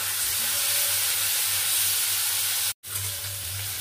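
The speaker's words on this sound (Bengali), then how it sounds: "এইভাবে এক এক করে সবজিগুলো আমি সব ভেজে নেব।" Vegetables frying in mustard oil in a wok make a constant close hiss and sizzle, with a brief silent break near the end before the frying resumes. No one speaks.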